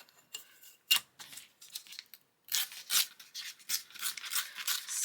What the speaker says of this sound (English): I'm just going to tear it off.